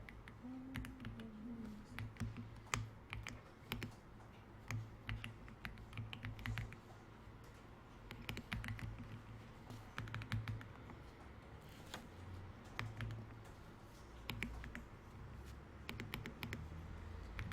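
Quiet clicking of keys on a computer keyboard in irregular bursts of typing, with low room noise underneath and no speech.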